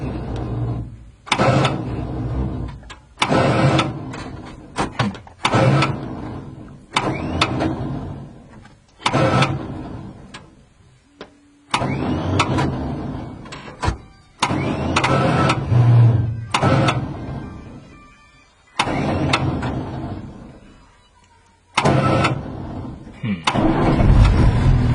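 An old vehicle on a bush road in Africa is cranked again and again, each start attempt a loud grinding churn of a few seconds, separated by short silences, repeating about nine times.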